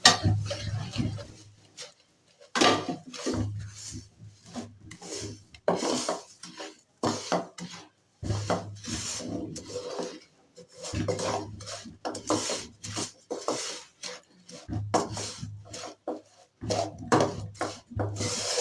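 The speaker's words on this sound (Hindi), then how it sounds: "इसमें मैं ये तेल शामिल कर रही हूँ और हमें फौरन से इसको मिक्स करना है" Sesame chikki mixture with oil is vigorously stirred in a frying pan, with repeated scraping and rubbing strokes of a spoon against the metal in rhythmic bursts, pausing briefly between rounds, close and clear.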